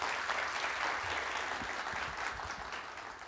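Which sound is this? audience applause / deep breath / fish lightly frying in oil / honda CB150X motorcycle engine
audience applause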